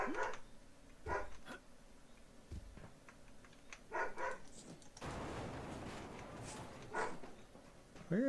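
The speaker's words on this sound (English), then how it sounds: "Stop getting the dog barking." Dog barking indoors during a live gaming session, with several short, fairly faint barks scattered between quiet stretches and a person talking.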